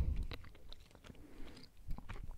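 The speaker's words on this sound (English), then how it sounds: "I'm going to do some soft speaking while chewing gum" Gum chewing close to the microphone, with soft wet smacks and crunchy bites repeating steadily over a quiet background, no talking.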